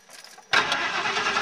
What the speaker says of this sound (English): I'm going to start it and see what happens.